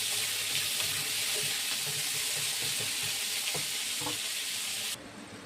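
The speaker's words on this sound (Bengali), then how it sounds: "আলুটা ভাজা আমার হয়ে গেছে" Potatoes frying in oil produce a dense, even sizzle up close, with scattered pops and crackles over a constant hiss, dropping suddenly to a quieter tail at the end.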